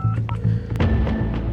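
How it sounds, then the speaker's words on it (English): Telephone keypad being dialed, a short run of distinct DTMF beeps in quick succession, close and clear with a faint thunk between presses. "That's when Yvonne and her husband decide to call police."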